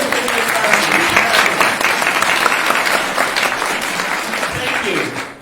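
A crowd applauds at a mayoral forum on the environment in Winnipeg, steady dense clapping filling the room for about five seconds and easing off at the end, with faint voices underneath.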